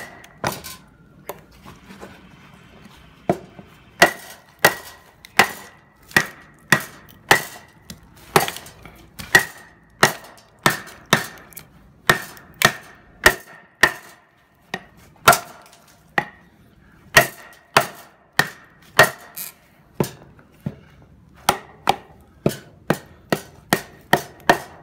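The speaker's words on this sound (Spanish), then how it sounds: "Vamos a batonear un cacho con este palo de amasar." A kukri machete batoned into hard quebracho wood with a rolling pin, a long series of sharp, close wooden knocks at an irregular but steady pace, roughly one every half second to second, each with a short ring.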